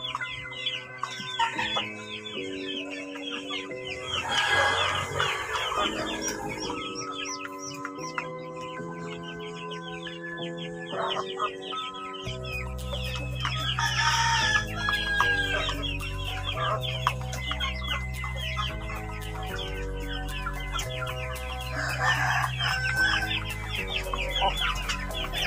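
Shamo gamecocks kept for breeding cluck repeatedly, and a rooster crows several times, close and fairly loud, over a steady background of calls with no talking.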